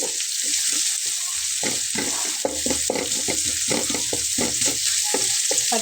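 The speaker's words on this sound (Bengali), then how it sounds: "পেঁয়াজটাকে আমি একটু হালকা ভেজে নেব, যাতে পেঁয়াজের গা থেকে পেঁয়াজের একটা সামান্য গন্ধ চলে যায়" Thickly cut onion sizzles steadily as it fries lightly in a pan for a Bengali fish curry, with a continuous hiss and a run of regular stirring scrapes throughout, close and fairly loud, no voices.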